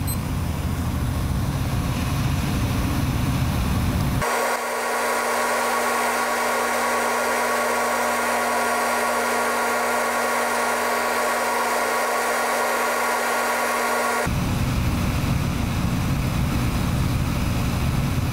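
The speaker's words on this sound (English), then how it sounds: "This is the effect of a propane flame on our Microlite coated fiberglass mat." Propane torch flame roaring steadily against a coated fiberglass mat, a loud continuous hissing rush that shifts tone partway through and holds for several seconds before returning to the earlier sound.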